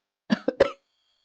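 A short, close burst of three dry coughs in quick succession from an ailing older man, followed by silence.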